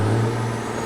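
A late-1970s Freightliner FLA truck engine idles close by with a deep, steady rumble and a strong low droning hum.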